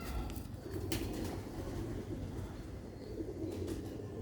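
A rooftop pigeon coos softly and low, the faint rolling calls barely rising over a quiet background hum.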